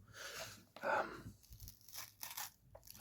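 Quiet, close tearing and crinkling as the packaging of a Doctor Who Season 7 collection box set is pulled open, with soft ripping bursts and rustles in an irregular rhythm.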